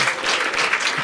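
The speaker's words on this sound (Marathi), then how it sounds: "टाळ्या वाजवा एकदा" A stand-up comedy audience breaks into dense, brisk clapping from many hands at once, a short, even burst of applause filling the room.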